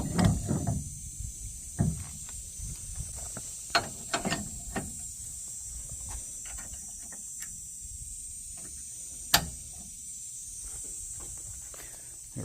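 A towing hitch with a 2.5 inch shank being pinned into the receiver of a 2024 Chevy 2500HD truck, heard as scattered metallic clicks and clunks, one sharp clank standing out, over low background noise with no talking.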